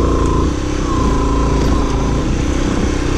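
An enduro motorcycle labors up a hard, rocky trail, its engine droning loud and close throughout with a rough, uneven throttle, no voices over it.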